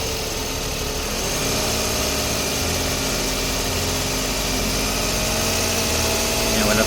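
A Suzuki DA64V van with an automatic transmission idles steadily up close, giving a constant mechanical hum and vibration with no talking.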